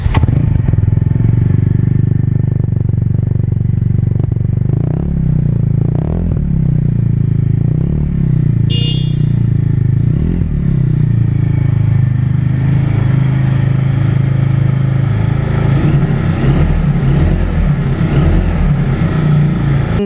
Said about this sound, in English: You look at that, how good is the exhaust note.